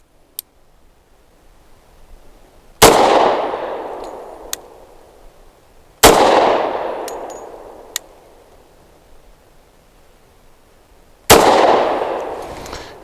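Three loud gunshots from a Taurus TH45 .45 pistol firing 185 grain nickel-plated hollow points, spaced a few seconds apart, each a sharp crack with a ringing decay, plus a few small clinks between shots.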